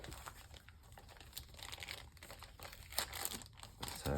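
A zippered fabric pouch holding a tarot deck is handled up close, giving soft crinkling and rustling with a few brief scrapes and taps, quiet and irregular.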